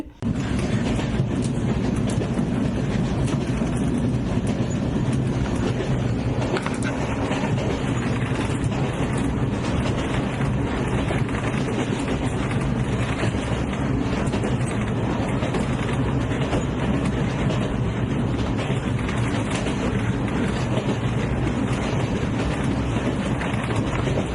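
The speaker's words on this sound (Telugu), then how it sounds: "ట్రైన్ అయితే వెళ్ళిపోవడం స్టార్ట్ చేసింది మూవ్ అయిపోతుంది" Train moving off near Nine Arch Bridge in Ella, Sri Lanka, giving a continuous, fairly loud low rumble with some wind buffeting on the microphone throughout.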